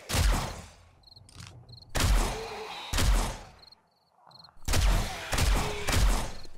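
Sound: Magnum gunshots in video game 7 Days to Die

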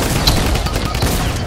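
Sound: minigun firing in the video game Fortnite

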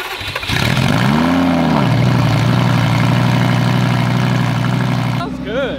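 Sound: Lamborghini Gallardo engine cold start

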